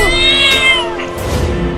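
A kitten meows loudly and close by, one long drawn-out cry that bends downward, followed by a softer second meow.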